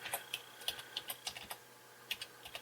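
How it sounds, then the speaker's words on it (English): Light, quick keystrokes tap out on a computer keyboard during a Gentoo Linux install on an Optiplex 790, a dozen or so soft clicks in an irregular run, faint and close with no talk. "So I'm going to go to a link by typing in G."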